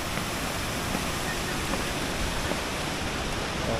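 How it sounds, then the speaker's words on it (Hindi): Mountain stream water pouring down from above in Himachal, a steady, loud broadband rush of falling water that fills the whole stretch without a break. "और आप देख रहे हैं ये ऊपर से पानी आ रहा है, इतना सुंदर पानी, आवाज़ आप सुन रहे हैं।"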